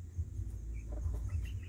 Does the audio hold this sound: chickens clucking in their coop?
yes